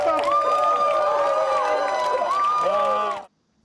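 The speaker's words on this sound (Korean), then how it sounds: "원고 측은 환호했습니다" The plaintiffs' side in a court case over the Saemangeum airport cheers after the ruling: a group of voices shouting together in a sustained, loud burst that cuts off abruptly.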